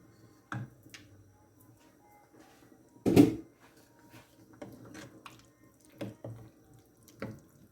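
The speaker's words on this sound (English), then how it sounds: "we're going to get our butter beans and pop those in" Butter beans tip from a tin or colander into a Tuscan bean stew pot, with a few wet squelchy plops and clacks spaced out over a quiet background, one louder splashy thud in the middle.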